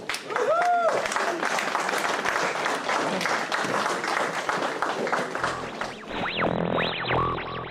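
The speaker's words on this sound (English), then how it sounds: "Round of applause." An audience at a talk on QSL cards applauds in a sustained, dense burst of clapping that fills the whole stretch, with a voice speaking over it near the end.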